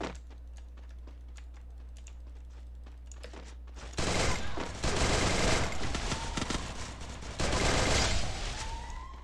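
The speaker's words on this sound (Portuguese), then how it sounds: "Deu uma rajada nele." In a first-person shooter video game, a few seconds of keyboard clicking give way to loud, dense bursts of automatic gunfire that rattle on in rapid volleys.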